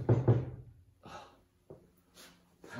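Knocks sound at a door, a close pair of firm raps followed by softer knocks spaced out over the next couple of seconds, in a quiet indoor room.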